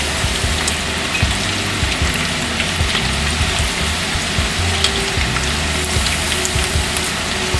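Mushrooms lightly deep-frying in hot oil give a steady, close, even crackle and sizzle with no pauses, heard alone with no talking.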